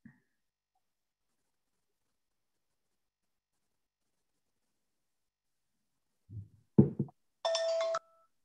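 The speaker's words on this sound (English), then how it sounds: "There it is. There's our little bell." After long silence, a few soft knocks lead into a single short, bright ring of a small timer bell at a public meeting, close and clear.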